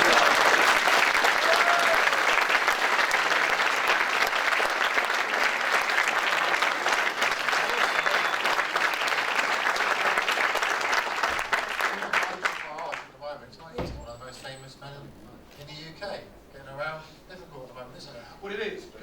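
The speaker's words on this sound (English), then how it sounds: "give him a big round of applause" A big crowd at a health and wealth summit in Tiverton, Devon, claps loudly and steadily for a long stretch, then the applause thins and fades out as talk resumes.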